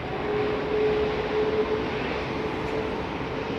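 Airliner with General Electric engines at London Heathrow, a steady broad roar of jet engines with a faint whine, continuous and fairly distant throughout, with no voices.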